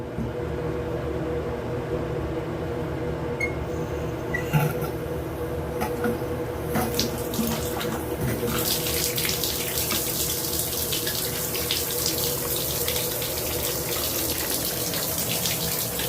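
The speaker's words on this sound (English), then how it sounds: "Alright, the hot water's turned on." Steady hot water gushing from a tap into a sink, continuous and fairly loud, with a brighter hiss building partway through as the flow increases.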